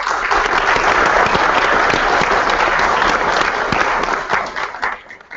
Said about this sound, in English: I think we can have a more stronger round of applause for all of them